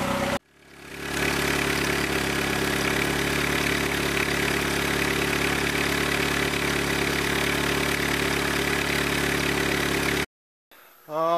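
A budget turbocharged car engine runs steadily and loudly for about ten seconds while driven at around 4 bar of boost, with a constant low drone and no talk, then cuts off abruptly.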